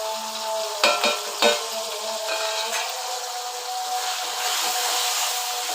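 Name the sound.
spices frying in a pan for prawn curry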